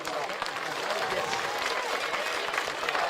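Dense, steady clapping from a crowd at a football league grand final, loud and continuous throughout, with a faint murmur of voices mixed in.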